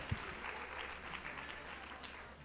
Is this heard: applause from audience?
yes